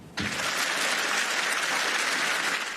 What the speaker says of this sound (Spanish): el presidente Zelensky recibió una ovación de pie